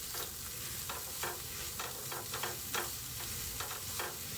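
Sliced okra (bhindi) frying in a pan, a steady close-up sizzle with repeated scraping stirs at a loose, regular pace, no voices.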